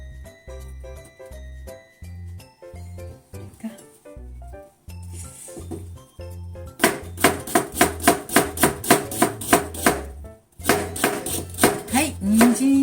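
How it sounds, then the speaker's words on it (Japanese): A knife chopping carrots into thick julienne strips on a board, rapid regular taps at first, then a faster, louder run of crisp strokes near the end, close up and with no one talking. "はい、人参2本切りました。 千切り、ちょっと分厚くなりましたけども"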